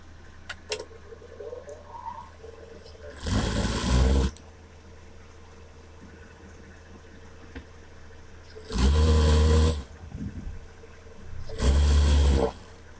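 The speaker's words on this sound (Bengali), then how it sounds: "গলার দিকটাকে সেলাই মেরে নেব।" An electric sewing machine stitches a blouse in three separate loud bursts of fast, buzzing whirr, close by, with quiet handling sounds of the fabric in the pauses between runs.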